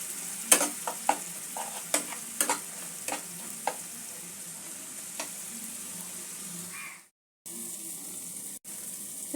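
Spice masala fries in a pan with a little added water, a soft steady sizzle broken by several sharp clicks of a spoon stirring, close and fairly quiet, briefly dropping out to silence near the end.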